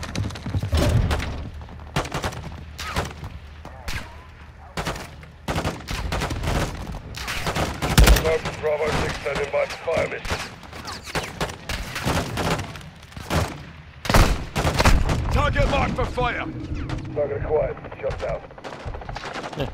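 Sustained automatic gunfire and scattered single shots in Modern Warfare 2 Remastered, loud and near with distant booms, running almost without a break through a chaotic battle while voices talk underneath.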